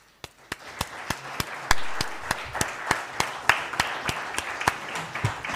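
Applause for six panel speakers at a conference session: a room of listeners claps steadily, with distinct crisp hand claps standing out above the softer crowd clatter throughout.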